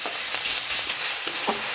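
Salt and chopped tomato stirred in a hot frying pan for a lady's finger and shrimp dish, a steady broadband sizzle with a few soft scraping strokes, close and continuous with no talk.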